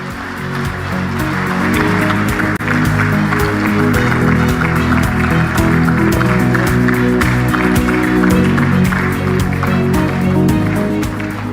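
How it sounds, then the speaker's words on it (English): A large crowd at a gathering of African heads of state gives sustained applause for President Samia Suluhu Hassan, a loud, continuous roar of clapping over a steady tonal background that holds throughout. "another big round of applause to our host, Her Excellency Dr. Samia."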